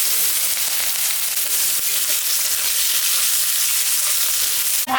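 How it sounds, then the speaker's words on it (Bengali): Onions frying in oil with dried chilli, cumin and bay leaves in a home kitchen, a steady close, loud hiss and crackle of sizzling that runs unbroken throughout. "পেঁয়াজটা একটু ভাজা ভাজা করে নেব।"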